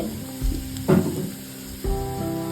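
Onions go into hot oil in a pan, giving short bursts of sizzling that flare up and settle a few times over a couple of seconds.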